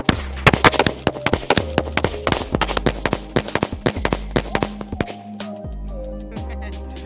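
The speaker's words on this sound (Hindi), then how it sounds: "ये अपना ये बम, इसको हम यूज करके देखते हैं इसका क्या रिएक्शन होते हैं।" A cheap Diwali firecracker bomb goes off outdoors as a rapid, loud string of sharp cracks and bangs, crowded at first and then thinning into scattered pops with a lingering hiss, with no talk over it.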